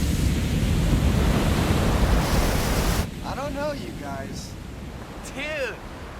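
Huge 20-foot ocean surf roars steadily and loudly in a surfing film scene for about three seconds, then cuts abruptly to quieter ambience as voices talk.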